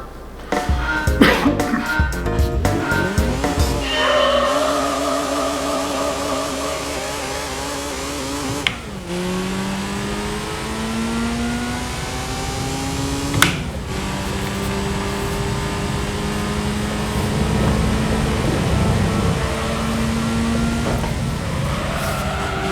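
A race car in the game Gran Turismo 3 A-spec roars loud and continuous, its engine pitch climbing through revs with a few sharp gear-change breaks.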